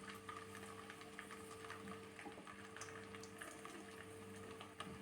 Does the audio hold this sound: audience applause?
no